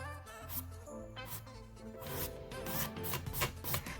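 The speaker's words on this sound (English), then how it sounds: "I'm just taking my file and I'm just going in, I'm just rotating it basically" A nail file is rubbed by hand in short rotating strokes across the cuticle area of a practice hand's nail, giving soft, close, rhythmic rasping that repeats quickly.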